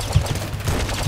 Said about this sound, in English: There's like everything and its mother shooting at me right now.